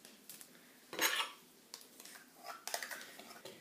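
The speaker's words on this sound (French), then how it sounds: "On va commencer par mélanger le sucre et les petits suisses." Sugar and strawberry petits suisses being stirred in a bowl, a few short clinks and scrapes of a utensil against the dish with quiet pauses between them, close and fairly faint.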